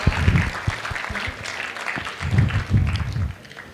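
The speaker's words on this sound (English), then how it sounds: "Yeah, clap for him." Audience applause for an undergraduate MBBS student at a youth event on a college campus in Puducherry, a burst of clapping from a crowd that swells, dips and rises again across the clip, with no talk over it.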